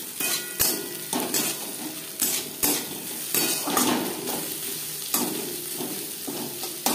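Garlic fries with browned onions in a pan for dal fry, a soft sizzle under repeated spatula strokes that scrape and clink against the metal every second or so. No one speaks.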